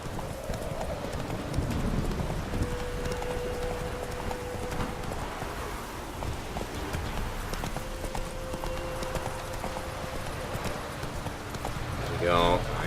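Roach the horse gallops in The Witcher 3, hooves clip-clopping in a steady rhythm that runs the whole way, with a voice talking over it now and then and a sharper burst of sound near the end.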